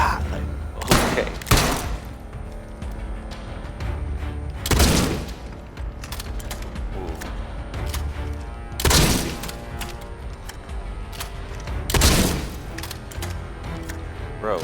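Gunfire in the video game Atomfall comes in loud, sharp bursts spaced every few seconds over a dense, rumbling background of combat noise.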